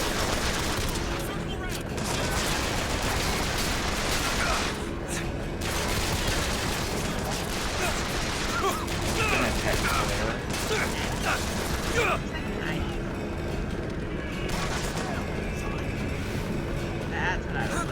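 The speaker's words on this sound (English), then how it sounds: "I don't know who you are, but I'm shooting you." Gunfire from the video game BioShock Infinite, dense bursts of shots and mechanical clatter running almost without a break, loud and close, with a voice talking over parts of it.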